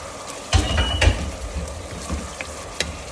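Onions sautéing in a pan with cumin and coriander for a spicy keema, a steady close sizzle with a few louder stirring scrapes and clatters against the pan early on.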